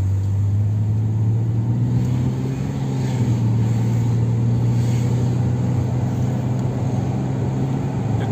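Heavy road traffic gives a continuous low rumble of engines and tyres from a car among many vehicles. It stays steady and close with no speech.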